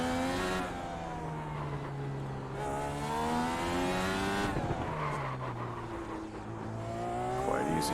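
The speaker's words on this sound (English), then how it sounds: "Quite easy to lock, but it's simulating front breakup or front braking lockup a little bit better." Simulated racing car in iRacing at a street circuit, engine note dropping through downshifts with tires squealing and locking under braking, loud and continuous with no talking.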